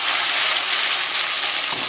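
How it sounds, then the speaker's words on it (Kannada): Cut cluster beans sizzle in hot oil in a pan, giving a steady, close, bright hiss with a fine crackle that holds without break for under two seconds. "ಎಣ್ಣೆ ಬಿಸಿ ಆಯಿತು. ಕಟ್ ಮಾಡಿಕೊಂಡಂಥ ಗವರನ್ನು ಹಾಕ್ತೀನಿ."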